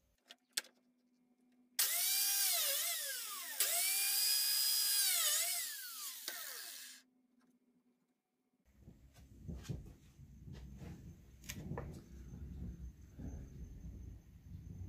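A biscuit joiner (lamelleuse) spins up and cuts into wood for a shelf unit, a loud high whine for about five seconds that winds down, followed by softer handling knocks and clatter.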